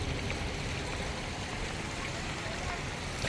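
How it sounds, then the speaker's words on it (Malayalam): Water flowing at an artificial waterfall in Vagamon, a steady broadband rush heard close and unbroken throughout. "അവിടെ നിന്നൊക്കെ വെള്ളം ഒഴുകുന്നു"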